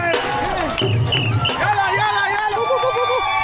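Crowds of supporters lining the London Marathon route, a dense hubbub of overlapping cheers and voices close by, continuous and lively throughout.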